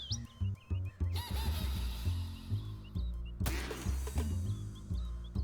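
A video game duck gives short honking, squawking calls when it dies, set over a busy, loud game soundtrack with chirpy bird-like blips throughout.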